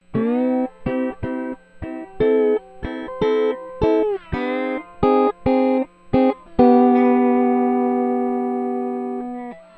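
Lap steel guitar with a single-coil pickup, fed through delay effects, plays a slow, gliding melody in a series of separate swelling notes, each trailing into an echo, ending on a long sustained chord that slowly fades.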